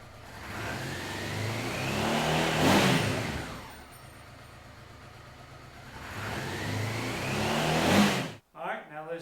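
Two throttle blips of a Honda Africa Twin motorcycle engine, each rising to roughly 4,000-5,000 RPM and falling back, heard close with a steady idle between them.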